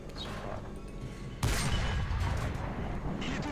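A tank cannon fires once in War Thunder, testing a French tank. The single sharp boom cuts through the steady engine rumble and trails off into a lingering roar.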